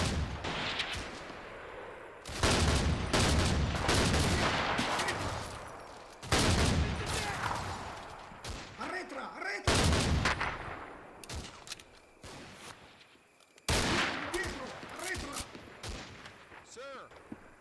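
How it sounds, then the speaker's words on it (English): Beretta M37 heavy machine gun in the Combat Mission: Fortress Italy war game, long loud bursts of automatic fire mixed with other gunfire and distant explosions in a dense, continuous battle. "I take a couple of casualties to a Beretta M37 heavy machine gun positioned in depth"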